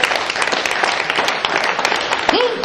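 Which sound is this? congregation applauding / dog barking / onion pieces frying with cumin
congregation applauding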